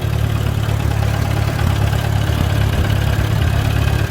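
A Farmall B tractor pulling Tilmor tender plant hoes while cultivating a weedy garden runs with a loud, steady, close engine drone and a constant low throb, unbroken and without talking.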